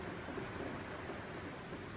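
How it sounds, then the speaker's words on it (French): Recorded rain plays softly in the background as a quiet, even hiss of steady rainfall with no breaks or distinct drops. "Je t'entends plus la pluie que la musique là."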